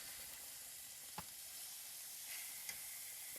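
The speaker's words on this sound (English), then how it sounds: "Okay, now it's time to flip. So we have a nice looking crust right there." Steak sizzling in a pan just after being flipped, a quiet, steady frying hiss with a couple of faint clicks and light stirring sounds.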